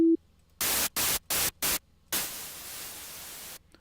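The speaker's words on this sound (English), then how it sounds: "And now let's add the noise layer." Synthesized white noise from an FL Studio 3x Oscillator layer: four short hissing bursts in quick succession, then a longer sustained hiss that cuts off abruptly, each burst loud and broadband.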